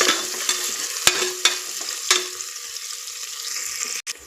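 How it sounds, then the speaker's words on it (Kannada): Onions frying in a pan until golden for masala rice bath, a soft steady sizzle broken by several sharp clinks of a spoon against the pan and a brief scrape near the end. "ಚೆನ್ನಾಗಿ ನೀಟಾಗಿ ಗೋಲ್ಡನ್ ಕಲರ್ ಬರೋ ತನಕ ಫ್ರೈ ಮಾಡ್ಕೊಳ್ಳಿ"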